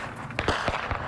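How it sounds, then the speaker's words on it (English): Gunfire from a sniper about 200 meters away around a corner in a front-line combat zone against ISIS, a few sharp cracking shots in quick succession. "that gunfire is hitting around the corner from us because there's a sniper in an ISIS building just 200 meters from where we are"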